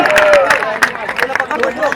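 Audience applause at the Ujiyar cultural event in Chhattisgarh, with rapid, dense clapping from a crowd mixed with a voice speaking over it and general hubbub.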